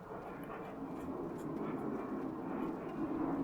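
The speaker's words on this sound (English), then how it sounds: "you can hear another fighter jet flying over" A fighter jet flying over in World of Warcraft, Howling Fjord area, a steady broad roar of engine noise that swells slightly, moderately loud with no voices.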